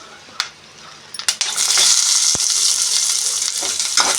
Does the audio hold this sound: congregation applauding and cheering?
no